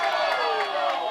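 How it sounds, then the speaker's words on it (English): Softball crowd at a Wheelersburg regional semi-final game erupting in loud, sustained cheering and shouting after an umpire's call, a dense roar that holds steady throughout. "Wheelersburg crowd loves the call. You can hear them going wild"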